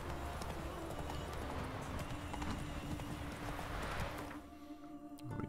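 Horse hooves clip-clop steadily in The Witcher 3 video game, a continuous moderate trotting rhythm over ambient game sound that thins out near the end.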